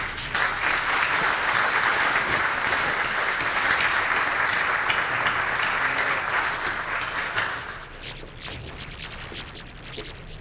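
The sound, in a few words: audience applause for a speaker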